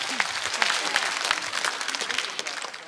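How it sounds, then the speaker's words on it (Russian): Applause from a concert hall audience at a televised singing contest in Babruysk, steady dense clapping that stays loud throughout with scattered voices mixed in. "Под аплодисменты зала,"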